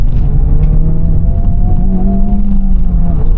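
Honda Civic Type R FL5 hot hatch driven hard through a corner, its engine droning steadily at high revs with a whirring tone, loud and continuous throughout, with no talking.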